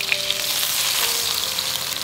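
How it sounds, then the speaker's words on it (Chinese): Murray cod coated in sweet potato starch sizzles starch side down in plenty of hot oil over high heat, a close, steady, dense crackle with no talk. "把裹混的一面先煎一下哈"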